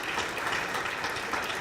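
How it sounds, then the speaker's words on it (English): Applause from an audience at a 2016 chamber of commerce awards ceremony, a brief dense burst of clapping. "give them a round of applause for that"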